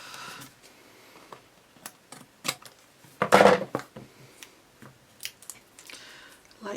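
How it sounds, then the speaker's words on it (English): Scissors snip away excess card from a rose anniversary card, a handful of sharp, close cuts with one louder crunching snip in the middle and quiet pauses between. "then we just cut the excess away"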